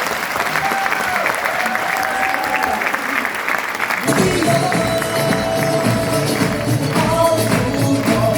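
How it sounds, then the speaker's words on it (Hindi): A crowd gives loud applause as a guest is called onto the stage at a mentoring event. The clapping is dense throughout and swells noticeably louder halfway through, with voices mixed into the din. "जोरदार तालियों के साथ"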